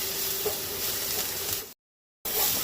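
A ground ginger, garlic and green chili paste sizzles steadily in hot oil in a pan, a continuous close frying hiss that briefly cuts out before resuming.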